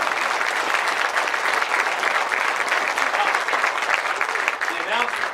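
At a Baylor Stadium progress update, a crowd breaks into sustained, fairly loud applause, with dense clapping that continues evenly throughout and a faint voice underneath toward the end.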